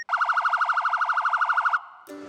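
Fourth of four warning alarm tones: a fast warbling siren pulsing many times a second in an even, trilling rhythm, loud and nearby, ending abruptly after under two seconds.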